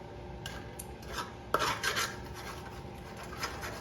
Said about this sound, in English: keep mixing the sugar